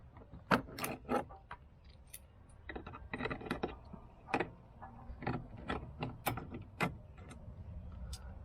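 Metallic clicks and light clanks of a bolt and nut being tightened while installing a door opener on a Can-Am X3 side-by-side, an irregular series of close, crisp ticks and taps with quiet gaps between them.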